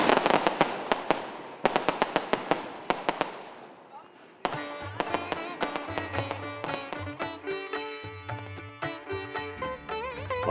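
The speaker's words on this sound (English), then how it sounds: "comes the first bit of firecrackers just before the new dawn" Firecrackers set off at dawn on Deepavali, sharp bursts of crackling pops in quick clusters, then a long dense string of rapid bangs going off continuously, loud and fairly close.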